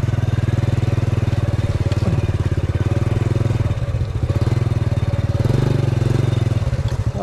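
A motorcycle rides through mud on a rural road in Sapang Bulac, Bulacan, its engine loud and close with a steady pulsing chug and slight rises in revs, with no talk over it.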